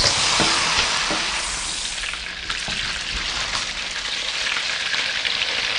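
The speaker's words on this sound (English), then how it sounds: "Now we'll fry the prawns" Prawns frying in very hot oil, a loud, continuous sizzle and crackle with scattered small pops, close and steady throughout.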